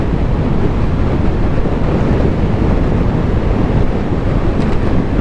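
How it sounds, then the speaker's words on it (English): Loud, steady wind roar and buffeting on the microphone while riding a fully upgraded e-bike at full throttle on a speed run, continuous and unbroken throughout. "Full throttle. Ooh, I feel the wind pushing me."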